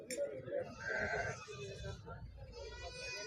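Goats bleating at the Siddipet livestock market, several overlapping bleats close by with voices talking among them.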